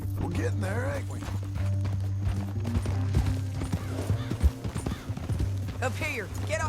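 Rhythmic clip-clop of horse hooves in Red Dead Redemption 2 over a steady low drone, with a horse whinnying and people talking throughout.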